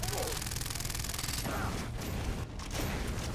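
Gunfire in the jungle shooter video game Far Cry 3: dense, continuous bursts of automatic fire crackle through the whole stretch, loud and busy, with brief dips and a short gap near the end.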